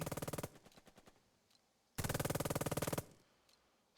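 An enemy machine gun in the Burden of Command video game fires two loud, rapid bursts, a short one and a longer one about a second long, separated by a quiet pause with faint distant shots.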